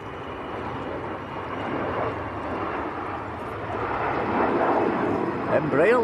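An Embraer Legacy business jet at Manchester Airport produces a broad, steady engine roar that swells gradually as it approaches, heard from a moderate distance with faint outdoor ambience and no talking.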